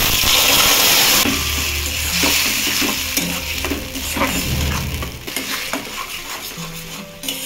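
Spice paste with asafoetida and nigella seeds goes into very hot oil in a pan for borbotir kochuri, setting off a loud burst of sizzling. A spoon then stirs and scrapes in steady clinks while the frying hiss settles to a lower crackle.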